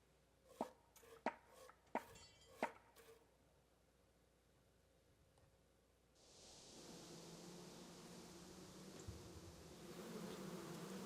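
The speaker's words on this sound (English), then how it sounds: "The bees!" Bees in the medieval video game Kingdom Come Deliverance, a steady buzzing drone that swells in after a few sharp knocks and clicks, then holds at a constant, moderately loud level.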